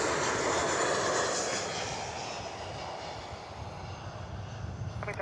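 Cargo aircraft landing on runway 9 at Miami Airport, a steady broad engine roar that is loud at first and eases slightly, heard alone.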